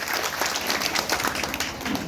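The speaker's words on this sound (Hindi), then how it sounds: "चलिए, इस बहन जी के लिए एक बार जोर से ताली बजा दीजिए आप लोग" An audience at a rally for anganwadi workers gives a short burst of dense applause for someone speaker. The clapping is steady and continuous, with no talk over it.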